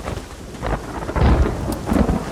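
Rolling thunder in a Western open-world game, with low rumbles building in waves amid steady rain and storm ambience, loud and close, no talk over it.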